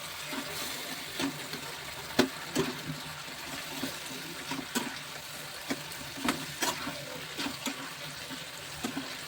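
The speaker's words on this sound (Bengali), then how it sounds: "জল ফুটে এসেছে, এখন আমি সব সয়াবিন ভাজাগুলো দিয়ে দেবো।" Fried soy chunks go into a pan of boiling water, giving a quiet bubbling simmer broken by scattered clinks and stirring knocks, with no voices.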